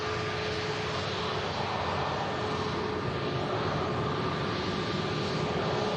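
An easyJet Airbus A321neo airliner arriving from Alicante at Manchester Airport, a steady broadband jet roar holding at an even level throughout, with no voices.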